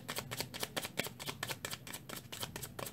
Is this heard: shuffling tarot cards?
yes